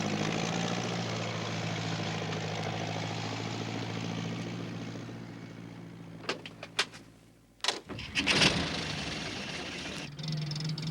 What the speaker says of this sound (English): It was Alf Thompson on his tractor.